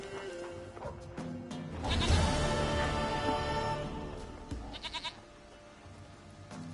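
Goat bleating in The Witcher 3: Wild Hunt, several loud, wavering bleats in the foreground over a game's ambient background, with a short burst of quick, choppy bleats near the end.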